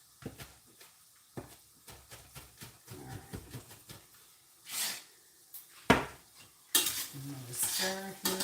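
Food being stirred in a pot during Christmas Eve cooking: scraping strokes and metallic clinks of a utensil against the pan come in irregular bursts over a low sizzle, with no voices.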